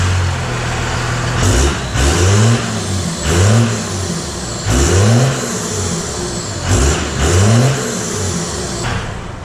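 Diesel engine of a second-generation Cummins truck with a newly replaced exhaust, loud and close, repeatedly revving in rising and falling surges over a steady rumbling idle.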